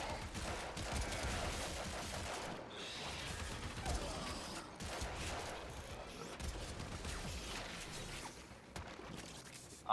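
A grenade launcher fires in a video game amid a dense, continuous clatter of mechanical rattling and rapid bursts that stays loud and steady throughout, with no clear speech.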